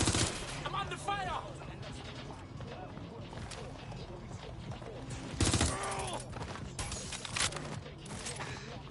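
Gunfire in the Watch Dogs: Legion video game, with bursts and sharp shots crackling through a dense, busy game mix, one loud burst standing out, while voices talk throughout.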